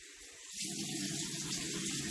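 A makeup brush rinsed under a running tap: a short quiet start, then a steady gushing stream of water into a sink for the rest, close by with no talk.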